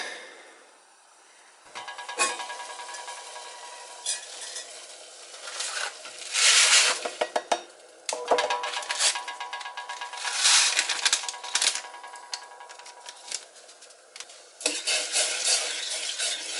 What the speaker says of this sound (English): Just stir that, cover it, bring it to a simmer